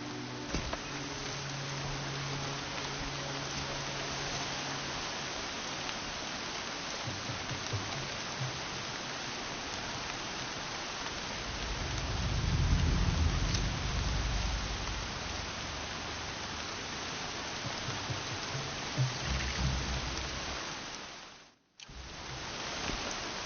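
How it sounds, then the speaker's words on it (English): Steady, dense rain hiss in the video game Horizon Zero Dawn fills the scene from start to finish, with a brief low rumble swelling partway through before a sudden cut near the end. "Rain's too loud to hear much."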